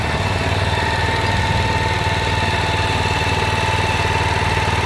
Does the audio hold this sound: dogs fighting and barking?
no